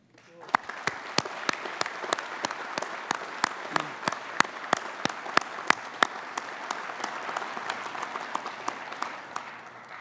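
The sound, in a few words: applause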